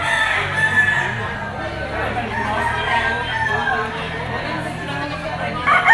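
A grey bull stag gamefowl crows nearby over a background of chatter and clucking from other fowl.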